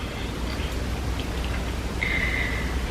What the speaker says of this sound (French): il pleut là, d'une manière t'as peur